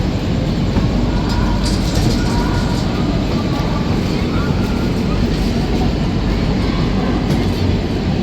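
A WAP7 electric locomotive from Visakhapatnam shed rolls past on the way from Puri to Sealdah, a steady broadband rumble and rattle of rail and wagons that stays loud and constant throughout.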